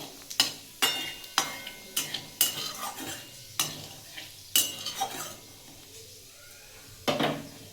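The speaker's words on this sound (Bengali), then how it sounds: "আর একটু সাদা জিরে ফোড়ন দেবো ফোড়নটা একটু ভালো করে ভেজে নেবো" Dried chili and white cumin seeds being fried for tempering in a pan, with sharp, repeated metal scrapes and taps of stirring at an irregular rhythm over a soft, light sizzle, close and fairly loud.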